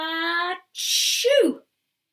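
A human voice imitates an elephant sneezing in a children's story reading: a drawn-out nasal wind-up, a sharp breathy blast, then a short vocal squeal.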